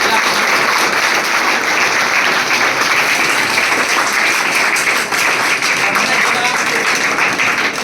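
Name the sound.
audience applause for selected students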